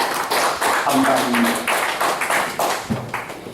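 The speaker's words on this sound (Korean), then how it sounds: "이 찬양들에게 다시 한번 큰 박수로" A congregation applauds worship singers at a Korean church service, steady, moderately loud clapping that lasts the whole moment while a voice speaks over it.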